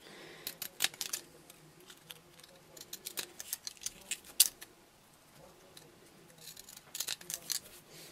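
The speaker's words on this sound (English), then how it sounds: "I take the petal and just kind of cut it with the decorative edge scissor around." Decorative edge scissors cut around a paper iris flower petal, giving a close series of crisp, irregular snips and clicks with quiet pauses and no talking.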